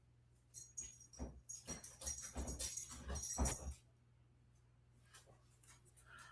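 A dog whimpers and yips in a burst of short, high cries and scrabbling over a steady low indoor hum, then falls quiet with only faint rustles.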